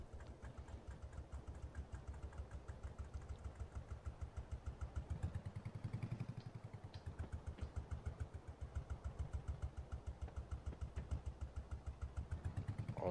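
A tractor engine in Farming Simulator 22 runs at a steady idle, its fast regular pulses continuing throughout with a slight swell in the middle, quiet and alone.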